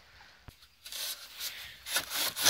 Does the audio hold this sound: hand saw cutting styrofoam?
yes